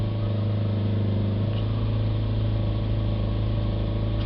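BMW 320d diesel engine held at high revs near 4000 rpm, a loud steady drone with a constant tone and no gaps, without speech over it.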